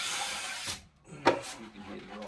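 A trowel scrapes drywall mud across Gyprock plasterboard in a steady, close rasping sweep, broken by one sharp knock partway through.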